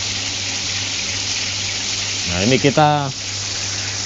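A garden tap gushing water into a koi pond filter makes a steady rushing hiss throughout, while a person talks briefly over it near the end.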